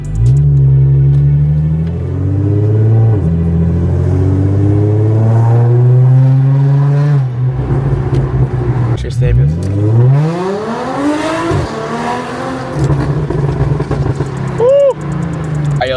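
An Audi S4 with a newly installed aftermarket exhaust idles with a deep rumble, then revs up in rising sweeps and blips again near the end, loud and close throughout.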